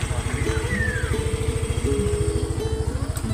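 A motorcycle engine chugs close and loud in a fast, steady pulsing rhythm, idling and revving slightly, with a voice faintly heard over it.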